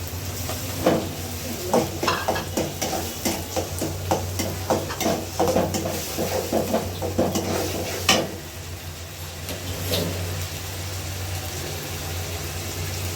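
Garlic paste fries in a pan for a home-style shrimp curry, with a steady sizzle under repeated stirring scrapes and clinks that come in uneven bursts for about eight seconds, then ease off to a softer background hiss.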